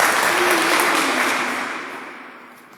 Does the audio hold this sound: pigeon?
no